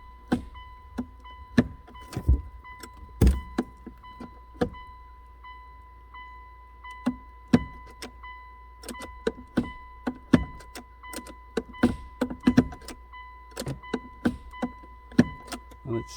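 Stiff gear shift lever of a 1999 Mitsubishi Pajero being worked, giving repeated sharp clicks and clunks at irregular intervals over a steady low hum, close and fairly loud.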